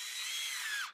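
A Festool CXS compact cordless drill drives a 2.5 to 3 inch screw, giving one steady, loud high whine for about a second that bends downward and cuts off as the screw seats.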